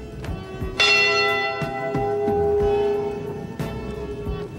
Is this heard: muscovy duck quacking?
no